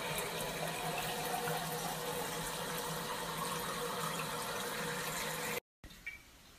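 An Enagic Kangen water ionizer set to pH 9.5 dispenses water in a steady continuous rushing stream for several seconds, then cuts off abruptly, followed by a brief faint clink.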